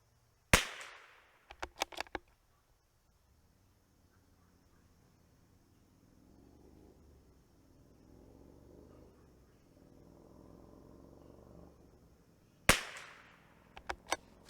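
A Tikka T1x MTR .22LR rifle fires a group of shots: a loud crack, then a few quick ones, a long quiet gap with faint background murmur, and another cluster of sharp cracks near the end.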